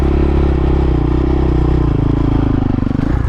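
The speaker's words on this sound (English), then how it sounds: "there's no problem just straight up holding a balance point wheelie like this" A dirt bike engine held steady during a balance point wheelie, a loud continuous drone with a slight drop in pitch near the end, no speech.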